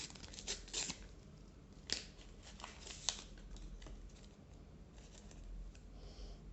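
Green tea packet torn open at its small cut, a few quiet crinkling and ripping bursts of plastic film, faint and close, with short sharp tears separated by pauses.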